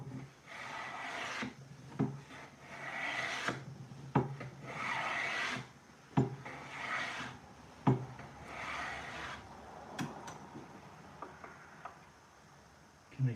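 Hand plane taking repeated shaving strokes along the edge of a wooden cabinet door, each pass a rasping swish of about a second, followed by a sharp knock as the stroke ends, with faint voices in the background.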